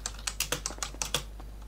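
Keys clatter on a computer keyboard in a quick, uneven run of about eight crisp taps, close and fairly quiet, with no voices.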